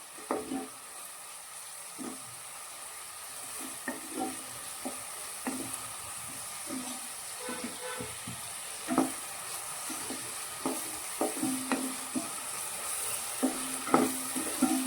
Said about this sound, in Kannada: ಕಂದು ಬಣ್ಣ ಬರೋ ತನಕ ಫ್ರೈ ಮಾಡ್ಕೋಬೇಕು ಎಣ್ಣೆಯಲ್ಲಿ.